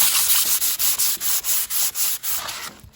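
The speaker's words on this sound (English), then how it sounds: "We just hit the face here with the sandpaper just to take all these little burrs off here" Sandpaper rubbed briskly over the metal face of a mortice lock to remove burrs, about a dozen close, even back-and-forth strokes in a steady rhythm, loud and unaccompanied.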